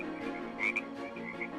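Frogs croaking from a pond behind a village house at night, a steady chorus of repeated croaks with a louder bright call near the middle, heard alone without talk.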